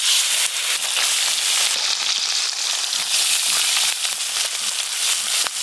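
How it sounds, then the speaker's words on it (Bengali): Small river fish frying in hot salted oil, a loud, steady, crackling sizzle throughout with dense popping spatter, close and continuous with no voices. "এবার ছোট মাছগুলো ভেজে নেব।"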